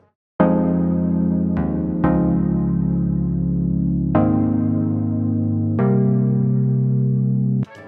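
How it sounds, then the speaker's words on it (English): Sustained synth chords layered with piano, each new chord struck with a sharp attack and ringing out, changing roughly every one to two seconds. "so we need to combine this piano with some synth chords."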